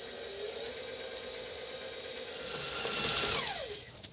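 An electric mixer whirs steadily through oatmeal cookie dough in a bowl, a continuous high motor whine with a faint hiss that swells briefly near the end, no talking.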